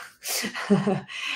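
A single short sneeze breaks out with a sharp intake of breath followed by a voiced burst, close and fairly loud, trailing into a breathy tail.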